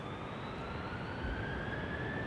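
Airbus A330 jet engines spooling up for takeoff at Amsterdam Schiphol Airport, a steady loud roar with a rising whine that climbs through the clip, no one speaking.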